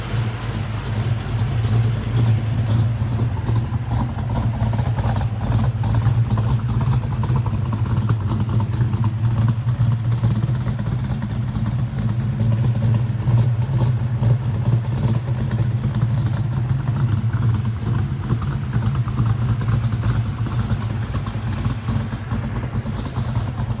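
A muscle car engine fitted with an Anderson N91 cam runs at a steady idle, a loud continuous low rumble with a choppy, rattling texture lasting throughout and no talk.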